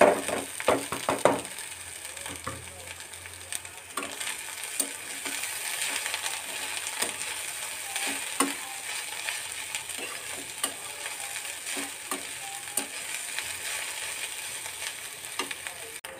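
Leafy greens frying in a pan with browned onion, garlic and green chilli, a soft continuous sizzle with a cluster of sharp clatters at the start and scattered stirring taps after, close and fairly quiet.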